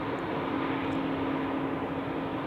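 A Helvetic Embraer 190-E2 jet airliner at Zurich Airport gives a steady, loud engine roar that holds evenly for the whole stretch, with no voices.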